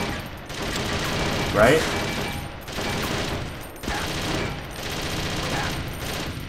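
Rapid, continuous gunfire from the Metal Gear Solid video game rattles on at a steady loud level, briefly dipping between volleys, with a voice speaking over it.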